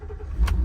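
A 2021 Ford F600 4x4 work truck with a 7.3 V8 and an aluminum bed drives, its engine giving a close, steady low rumble for a brief moment.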